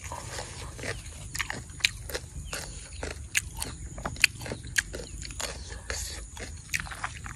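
Someone biting and crunching crispy, cold sour mango outdoors, with repeated sharp, close crunches at an irregular pace over a faint background hum.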